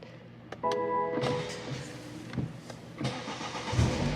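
A car engine cranks with a short whine, then catches and settles into a loud, rough running idle with a few revs, close by and heard without talk.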